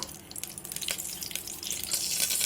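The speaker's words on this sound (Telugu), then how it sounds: "నేను ఆయిల్ వేస్తున్నాను." Cooking oil poured into a hot cooker sizzles and hisses steadily, faint and close, growing slightly louder toward the end with no talk over it.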